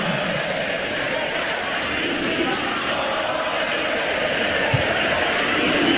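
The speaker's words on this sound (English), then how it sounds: "You can hear this crowd once again" Crowd noise fills a college basketball arena during a Florida Gators game against Ole Miss, a steady loud roar of cheering with faint court sounds and a commentator talking over it.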